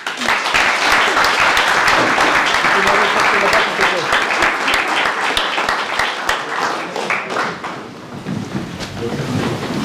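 A packed room at a town medal ceremony in Caudry applauds a retiring employee, loud sustained clapping filling the space, with a few voices mixed in near the end.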